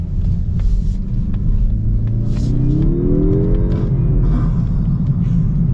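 A 2024 Mazda 3 turbo revs under acceleration, a deep steady engine rumble rising in pitch with a turbo whoosh, heard from inside the car without talk.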